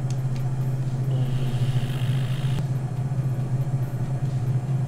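Aircraft engines at full throttle in a flight simulator game give a steady, loud, low droning hum that holds throughout, with a faint higher whine layered over it.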